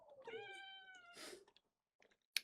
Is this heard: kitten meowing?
yes